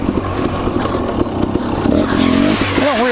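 Dirt bike engine riding single track on an Idaho trail in fall, a close, steady motor drone with rattling clatter from the rough path, the pitch shifting as the rider throttles near the end.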